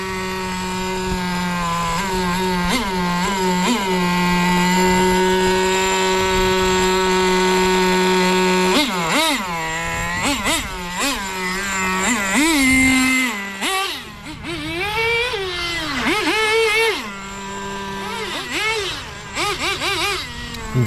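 HPI Racing WR8 3.0 nitro RC car, a 2001 WRC Subaru Impreza replica, running loud and near: a buzzing high-pitched engine drone, steady at first, then rising and falling in repeated revs as it accelerates and lifts off.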